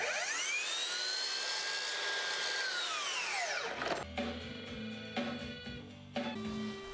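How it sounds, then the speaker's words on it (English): A miter saw cutting wooden shelf cleats: the blade spins up with a rising whine, bites through the wood with a harsh buzz, then winds down with clunks and knocks of the timber being handled. "I made the cuts at the miter saw."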